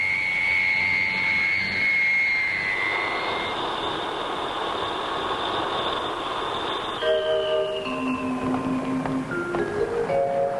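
A 1960s passenger airliner lands at Lisbon with a loud, steady jet roar and a high whine that slowly falls in pitch, then shifting engine tones as it slows on the runway, near and continuous with no talk.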